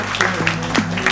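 Wedding guests clapping together at an Estonian wedding celebration, a steady continuous patter of applause with a low hum beneath it.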